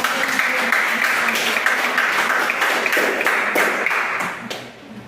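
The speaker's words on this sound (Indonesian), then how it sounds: "kita berikan applause sekali lagi" A classroom audience claps together in a dense, steady round of applause that holds for several seconds and then fades out near the end, with no talking over it.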